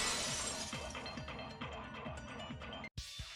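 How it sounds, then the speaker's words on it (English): Glass shatters as a sound effect in the Danganronpa 2 video game, heard as a fading, crackly scatter of breaking fragments that cuts to a brief silence before a short final tail. "At the entrance hall, the girls heard the sound of the window shattering."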